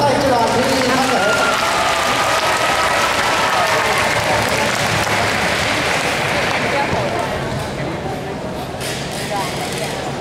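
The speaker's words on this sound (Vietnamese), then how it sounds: "Xin quý vị một tràng pháo tay cho đoàn thiếu nhi thánh thể." Audience applause in a large arena at a children's choir event, dense and steady clapping from a big crowd that holds throughout and fades slightly toward the end.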